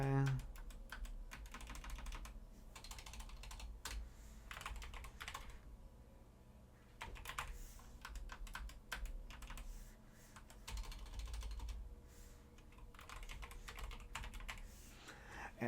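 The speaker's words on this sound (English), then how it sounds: "I'm typing fast." Fast typing on a computer keyboard during software setup, a dense close clatter of rapid keystrokes with brief pauses, running steadily throughout.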